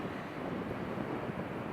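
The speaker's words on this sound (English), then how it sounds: "The breeze is picking up, the wind's picking up." Steady wind gusting across an open beach, a dense, unbroken rush that buffets the microphone for the whole moment with no voices.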